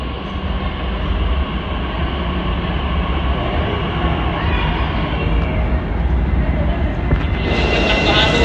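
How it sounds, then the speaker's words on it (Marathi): A Pune metro train pulls into the station, a steady broadband rumble and rush that builds slightly toward the end with a brighter hiss as it arrives, close and continuous, with faint voices mixed in. "सो गाईज, आपली मेट्रो आलेली आहे."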